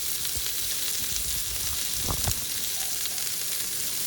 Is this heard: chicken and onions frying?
yes